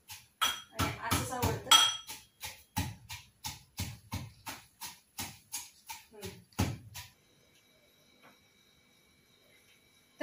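Roasted chillies and raw garlic are pounded and crushed by hand for kharda, a steady series of sharp rhythmic thuds and clinks up close, slowing and then stopping, with someone speaking briefly over it.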